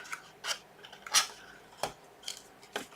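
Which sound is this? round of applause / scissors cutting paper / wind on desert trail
scissors cutting paper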